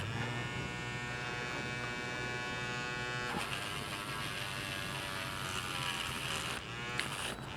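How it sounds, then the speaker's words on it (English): A Dremel rotary tool spins a small brush against vintage OZ wheel hardware, making a steady, close, high-pitched motorized whine that shifts in tone as the brush presses and lifts. "with this little brush in my Dremel here"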